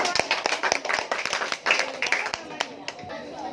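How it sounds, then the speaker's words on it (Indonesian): A classroom full of students claps together in a brisk, uneven burst of applause that carries on for several seconds before tapering off, with a few voices mixed in. "Ya, berikan aplaus."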